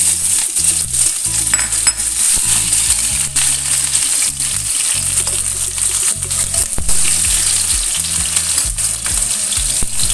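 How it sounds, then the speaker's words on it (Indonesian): Shallots, garlic and chili sizzle steadily in hot oil in a pan, a dense continuous frying hiss with occasional clinks and stirring noises, close and fairly loud with no talking. "masukkan terlebih dahulu. Di sini ada bawang merah, bawang putih dan cabenya."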